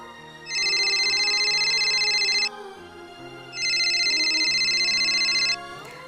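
A telephone rings in a home, two long electronic trilling bursts separated by a short pause, loud and close over soft background music.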